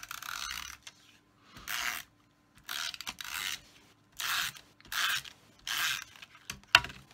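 A Snail adhesive tape runner is pressed along paper cardstock in a series of short rasping, ratcheting strokes, each about half a second, close and crisp with quiet gaps between.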